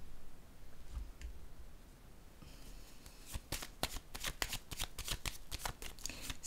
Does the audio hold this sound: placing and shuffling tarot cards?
yes